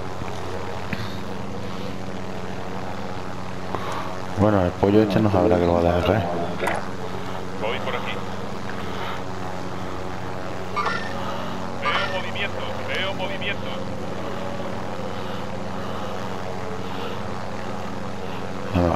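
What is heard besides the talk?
enemy attack helicopter in video game Call of Duty: Modern Warfare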